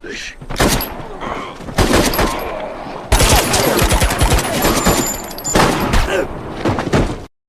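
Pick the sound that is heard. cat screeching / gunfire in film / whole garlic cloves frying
gunfire in film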